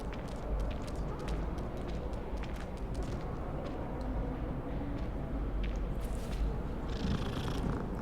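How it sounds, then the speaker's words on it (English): A cat purrs in the video game Hogwarts Legacy, a steady low rumble running the full length against continuous game ambience, with faint higher rustles on top. "Hey, look, there's a cat."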